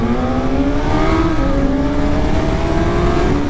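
A BMW S1000 XR and a Suzuki GSX-S1000 GX sport-touring motorcycles accelerating hard together, a loud close engine roar with rising harmonic pitch and wind rush, continuous without talk.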